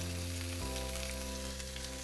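Ground beef seasoned with salt, garlic powder, oregano, black pepper and onion powder sizzles steadily in a pan, making a dense, continuous frying hiss with no voices.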